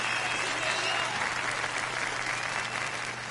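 Applause from a crowd in the video game Yakuza 0 carries on as a dense, steady clapping for the whole stretch, loud and continuous. Voices are faintly mixed beneath it.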